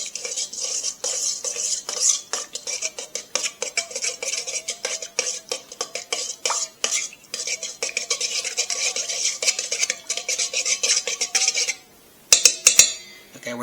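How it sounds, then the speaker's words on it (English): A spoon briskly stirs active dry yeast and sugar in a bowl for pizza dough, making rapid, close metallic clinks and scrapes in a steady rhythm that pause before a few final louder taps. "We're going to give that a mix."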